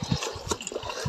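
Water running from a hose on a mountain trail, a short burst of splashing, gurgling flow with uneven bubbly pulses, close and fairly clear.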